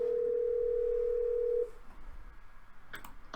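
A steady telephone dial tone hums loudly for about a second and a half while a call is placed, then cuts off, leaving faint line noise and a couple of brief clicks.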